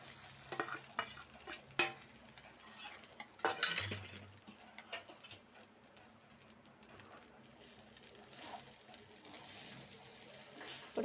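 A spoon stirs curry leaves rice in a pot with quiet scraping and clinking strokes, sharpest in the first four seconds and then softer, with faint background sounds and no talking.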